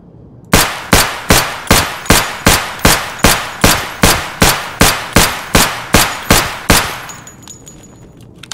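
Shots from a Glock 17 pistol in the shooter game Escape from Tarkov ring out at a barrel downrange: about thirteen loud, sharp reports in a steady, evenly spaced rhythm, each with a short echoing tail, followed by quiet.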